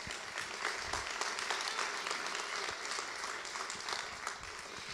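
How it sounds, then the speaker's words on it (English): Audience at a sports marketing conference giving a round of applause, a steady, dense clapping that holds evenly from start to finish with no voices. "we have to take another round of applause for putting up with us"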